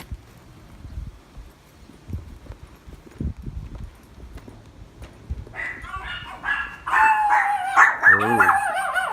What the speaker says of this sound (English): I can hear them barking already.